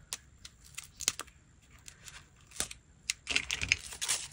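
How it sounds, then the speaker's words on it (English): Scissors snip into the paper of a to-go coffee cup at close range, a series of crisp irregular clicks and cuts that thicken into faint crinkling toward the end, with no talking. "I find that overlap and stick my scissors right under there."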